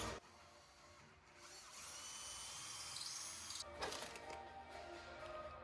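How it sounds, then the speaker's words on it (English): A power drill bores and enlarges holes in a GTR's rear spoiler for rivet nuts, a steady close-up whine with a brief dip near the start and a harsher, louder grind toward the end. "now I'm just drilling the holes on the spoiler itself, just so I can insert the rivet nut"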